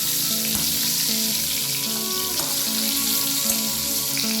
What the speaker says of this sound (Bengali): পটলটাকে আরও একটু উল্টে দেবো যাতে অপরদিকটা ঠিকঠাকভাবে ভাজা হয়।